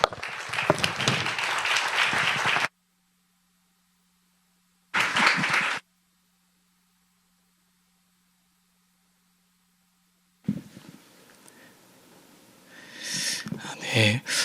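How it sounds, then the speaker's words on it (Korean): A church congregation at a Friday prayer meeting claps to welcome a pastor, with a burst of dense applause, a silent gap, then a short second burst and a later stretch of rustling and scattered sounds. "우리 추광수 목사님 나오실 때 축복의 박수로 환영해 주십시오"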